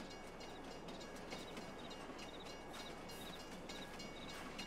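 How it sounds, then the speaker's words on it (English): Train passing in the Farming Simulator 22 video game, a steady broad rumble with faint rolling clatter, quiet and distant, heard alone without talk. "there's the train"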